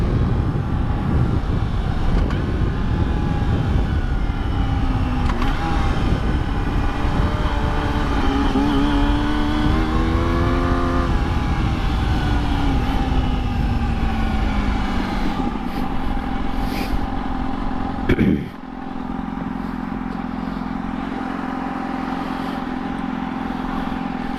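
A Yamaha R6 motorcycle engine screams at high revs, pitch climbing and falling through gear changes in a loud continuous whine that drops abruptly to a lower idle-like drone near the end.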